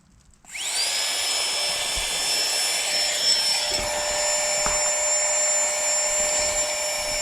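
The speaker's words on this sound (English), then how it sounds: "That should blow up the mattress." A small electric pump runs steadily while inflating a camping mattress at a winter wild camp, switching on abruptly with a high whine and then holding a constant, close, moderately loud drone with no talk.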